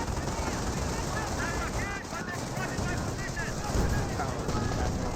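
Dense machine gun fire and battle noise from the Company of Heroes video game, aimed at an infantry half-track, form a continuous loud, crackling wall of sound with a commentator's voice mixed in.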